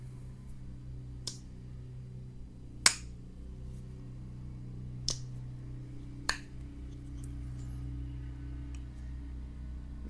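Four sharp, separate clicks from the action of a RoseCraft Buffalo River Jack folding knife, heard close and spaced irregularly over a steady low hum.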